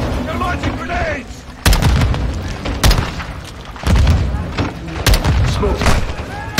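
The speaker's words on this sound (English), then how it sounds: "They're launching grenades!" Grenade explosions and gunfire in a Call of Duty Modern Warfare 2 battle: several loud, heavy booms at intervals over continuous shooting and rumble, with shouting voices mixed in.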